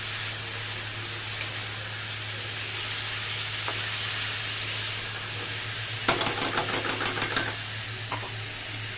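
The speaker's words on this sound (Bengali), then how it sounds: "সবজিগুলি ভাজা ভাজা হচ্ছে, ডালটাও ভাজা ভাজা হচ্ছে" Vegetables and lentils frying in a pan while cooking dalia, a steady sizzle under a low hum, with a quick burst of rhythmic scraping stir strokes toward the end.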